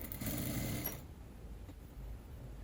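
Sewing machine stitching the side seam of a polo shirt, a quiet steady mechanical whir that runs for about a second, then a faint hum continues.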